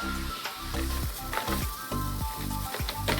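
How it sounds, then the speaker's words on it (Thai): A pot of salted water bubbling and hissing at a rolling boil for Thai tom yum tilapia soup, steady and close, with intermittent clanks and stirring noises. "น้ำเดือดแล้วนะคะ"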